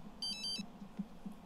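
Within The Sims 3, a phone rings with a short, bright electronic trill near the start, fairly clear above a faint low background of game ambience and no speech.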